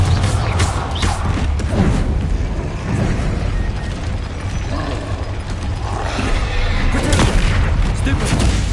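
Spell explosions from Bombarda and Confringo go off in the video game Hogwarts Legacy, loud booming blasts with mechanical rattles layered with shouted incantations throughout.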